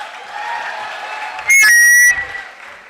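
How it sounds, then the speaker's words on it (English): Audience at a beginning teachers' conference applauding through a steady wash of claps, with a loud, sharp whistle cutting in briefly near the middle before the clapping carries on. "Clap me too now, clap me."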